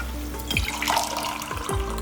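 Water poured in short splashing streams into a vessel, two gurgling pours close by, steady and moderately loud, no voices.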